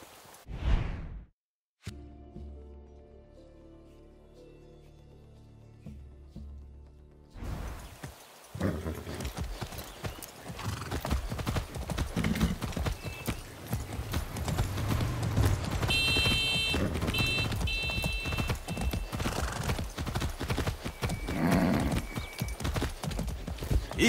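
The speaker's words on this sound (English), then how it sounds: "That's a good horse." A horse in the Far Cry 6 video game, hooves clip-clopping in a fast, dense rhythm that builds and stays loud after a quieter opening, with a brief whinny near the start.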